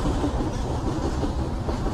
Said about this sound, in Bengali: ট্রেন যাচ্ছে, এইটারই অপেক্ষায় ছিলাম।